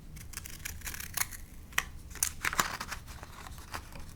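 Decorative edge scissors snip through paper while a bookmark is made, a few sharp crisp cuts and rustles spaced irregularly, close and fairly quiet.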